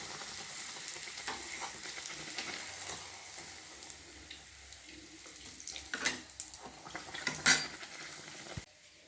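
Wheat dough made from home-ground flour frying in hot oil, a steady broadband sizzle with bubbling that swells into brief louder crackles and spurts as the dough puffs near the end.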